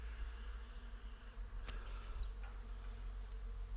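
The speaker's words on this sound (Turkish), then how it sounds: "kuş sesleri, bülbül sesleri, arı sesleri" Bees buzz faintly amid a white cherry orchard, a soft steady hum blended with outdoor ambience and a few brief sharper sounds.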